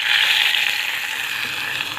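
Browned garlic tempering hisses in a steady, close sizzle as it is tipped into rasam, a dense bright frying crackle that holds evenly for about two seconds with no voices.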